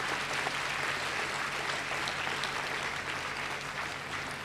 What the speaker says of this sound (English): That demands a round of applause.